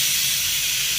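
A pressure cooker of rice on a kitchen stove vents steam in a loud, steady hiss, close and continuous for the whole brief moment with no one talking.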